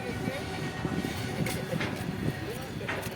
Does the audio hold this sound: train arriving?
yes